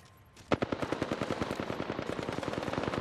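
Rapid automatic gunfire in the Apex Legends game bursts in after a quiet moment, a fast, steady string of sharp shots that stays loud and close for about two and a half seconds.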